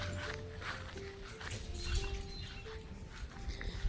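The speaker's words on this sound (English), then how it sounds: "Now, of course, that's my dogs acting absolutely crazy." Several dogs whimper and whine outdoors in a garden, with short high whines and yelps over a busy background of movement and footsteps, fairly close but not loud.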